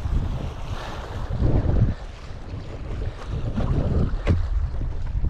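Ocean swell washes around a paddleboard fitted with a Foil Drive, with surging water, rushing wind buffeting the microphone, and a few splashes from close by, without speech.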